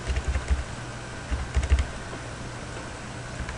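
Someone taps keys on a computer keyboard in two short clusters of soft clicks entering numbers into a chart, over a steady low electrical hum, then the typing stops.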